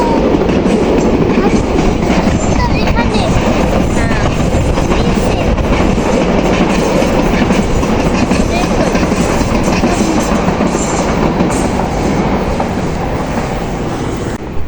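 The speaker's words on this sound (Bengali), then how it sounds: "এটা ট্রেন যাইতেছে" A train rumbles past continuously beside a cleared grove, its wheels and carriages producing a steady, loud roar with faint rail clatter that fills the whole span without letup.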